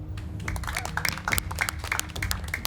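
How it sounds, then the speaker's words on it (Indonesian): Live audience applause for stage magician Robby Constantine on a magic competition show, a dense wash of clapping that swells and dips over a steady low musical bed. "beri tepuk tangan dulu untuk Rob"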